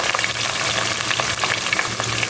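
Two medium chopped onions hitting hot oil in a pan give off a steady, close sizzle with faint stirring scrapes, continuous and fairly loud with no voices.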